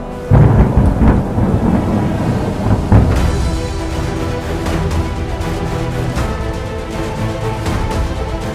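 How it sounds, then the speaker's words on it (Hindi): Rain pours steadily with a loud, continuous patter on the trek from Gaurikund to Kedarnath, while thunder rumbles heavily near the start and again later. "तो जिस चीज़ का डर था वो हो ही गया, बारिश शुरू हो गई"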